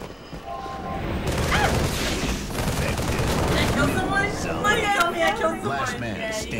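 Rapid gunfire and explosive bursts from a Halo 3 multiplayer match, dense and continuous, mixed with excited voices talking over the shooting.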